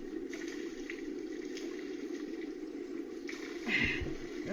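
Water flows in a steady, soft rush in Talisay, Batangas, with a brief louder splash near the end.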